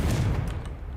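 Confringo spell blast in a Harry Potter video game, a short muffled explosive burst with crackling that quickly fades.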